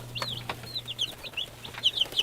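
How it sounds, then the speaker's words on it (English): Americana and Bantam baby chicks peep in a brooder, with high, quick chirps repeated in small bursts at close range over a low, steady background hum. "So yeah, that's our chicks."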